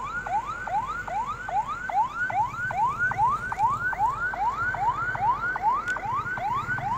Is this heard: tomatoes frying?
no